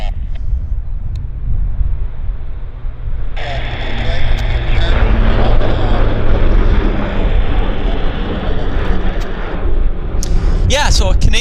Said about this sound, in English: Oh, hang on, I got a Q400 rolling.